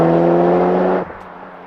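A Mitsubishi Evo IX FQ-360 MR fitted with an HKS exhaust gives a steady, loud engine drone with a strong low hum, then the note abruptly drops to a softer idle partway through.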